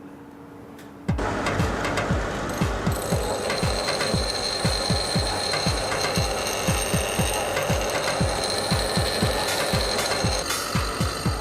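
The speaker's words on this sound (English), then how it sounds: "This blade has become dull, so we'll ask them to sharpen it. There'll be sparks, so be careful." A dull blade being sharpened on a grinder, producing sparks; a sudden start followed by steady rhythmic rasping strokes repeating about twice a second, close and fairly loud, with no talk.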